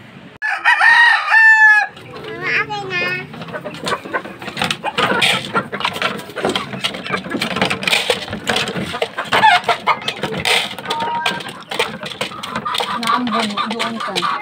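Fighting cocks being fed: a loud rooster crow rings out at the start, followed by a second shorter crow, then busy clucking and scratching from the flock with brief talk from a person nearby.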